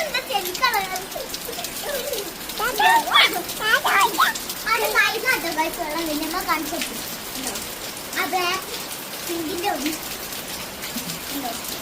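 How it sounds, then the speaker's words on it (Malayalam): Steady rain patters and hisses throughout, with children's voices chattering and calling over it nearby. "മഴ പെയ്യാണ്"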